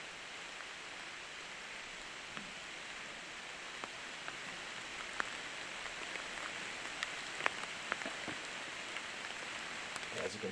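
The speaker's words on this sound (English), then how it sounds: "it's starting to rain pretty good now" Steady rain patters down outdoors on a disc golf course beside Lake Superior, a dense even hiss with scattered faint drop ticks, with no voices.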